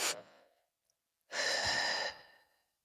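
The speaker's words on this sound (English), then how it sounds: "You tap and you breathe like twice. You inhale and then exhale and go." A short sigh-like breath followed by a long, strong exhale close to the mic, the two breaths separated by a pause, taken during EFT tapping.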